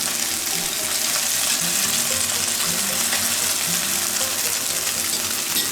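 Korean pollock pancakes (dongtae-jeon) sizzle in generous cooking oil in a pan over low heat, a steady, dense crackling hiss that continues evenly without pause.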